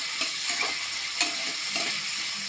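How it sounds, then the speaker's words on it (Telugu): Green chillies and tomato pieces fry in a pan for vegetable pulao, giving a steady, close sizzle broken by soft spoon-stirring scrapes at roughly regular intervals. Nobody speaks. "కొంచెం టమాటా ముక్కలు అవన్నీ వేసుకుని బాగా ఫ్రై చేసుకుందాం"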